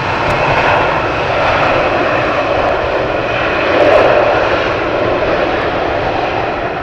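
A fixed-wing airliner landing on runway 18R at Amsterdam Schiphol in rain and wind, a steady loud roar of engines and wind noise that swells briefly mid-way, with no talk.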